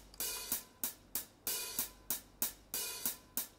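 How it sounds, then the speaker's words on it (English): Doubled hi-hats programmed in Logic Pro for a hip-hop beat tick in a steady, evenly spaced pattern of crisp, bright hits that decay quickly, fairly quiet and alone. "So my hats are actually double as well with this."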